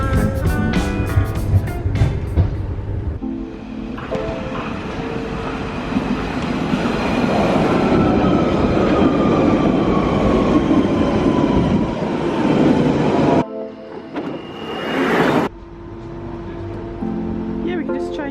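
A train ride heard from inside the carriage: a loud, steady rumble of wheels and motor with a long rising whine, briefly interrupted as the sound cuts, with voices talking faintly underneath.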